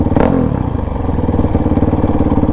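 Dirt bike engine near and loud, a throaty pulsing idle that rises as throttle is blipped, rhythmic firing thuds continuing steadily through the stretch with light mechanical clatter and no talk.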